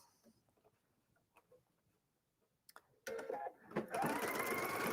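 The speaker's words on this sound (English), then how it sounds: "I'm going to sew just a regular 5/8 inch seam" A sewing machine runs a 5/8 inch seam through heavy specialty fabric, starting loud and steady after a few seconds of quiet handling noises and continuing as a dense, close whirr to the end.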